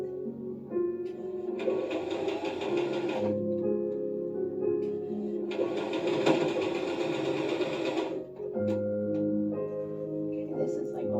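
A newly unboxed sewing machine stitches slowly through thick, pressed-down fabric in two sustained runs of rapid needle chatter, separated by a pause with a low background hum.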